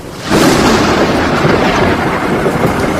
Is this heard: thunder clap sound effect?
yes